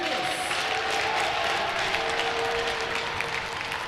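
A crowd at a varsity high school hockey game at Hopkins claps steadily in a busy rink, sustained applause with some cheering, while an announcer's voice carries over the top.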